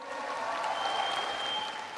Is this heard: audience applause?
yes